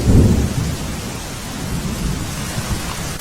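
Heavy downpour in the Dahod district of Gujarat with a low rumble of thunder at the start, then dense steady rain drumming on surfaces, loud and continuous.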